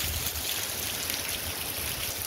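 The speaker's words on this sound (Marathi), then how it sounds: "5-6 दिवस भरपूर पाऊस पडत आहे" Heavy monsoon rain pours down in a constant dense hiss, loud and unbroken with no voices.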